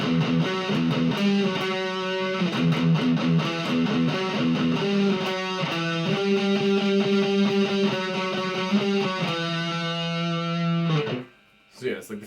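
Distorted electric guitar plays a metal intro riff at a slowed tempo: chugging, sustained notes shift through repeating patterns for about eleven seconds, then stop abruptly with a few stray notes.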